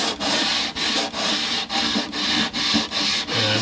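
Rosewood on an old Gibson guitar being filed or sanded by hand, a steady rasping rub in about nine even back-and-forth strokes, close and fairly loud with brief gaps between strokes.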